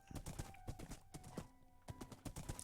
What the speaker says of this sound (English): I got my horse. He was upside down.